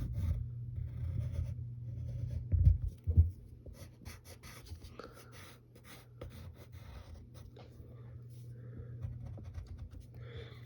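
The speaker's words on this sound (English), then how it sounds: "Now we got to draw one side of his body" A pencil moves across paper drawing a cartoon flounder's body, soft close scratchy strokes in short bursts, with a low steady hum underneath and a couple of louder knocks early on.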